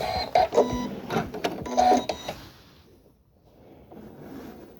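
A home embroidery machine stitching a quilt-as-you-go square, joining top fabric and wadding to the backing, gives a rapid mechanical whirring with tonal buzzing for about two seconds, then stops and leaves quiet room sound.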